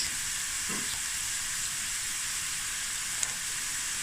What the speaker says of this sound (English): now you want your onions to get really brown